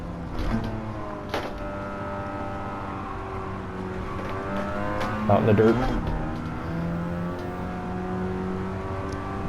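Mazda RX-7 FC rotary engine in Gran Turismo 7, driven with a sim wheel, holds a steady high drone with rising and falling pitch through gear changes and a brief louder rev burst midway, while someone talks over it.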